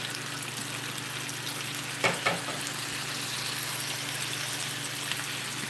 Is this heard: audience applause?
no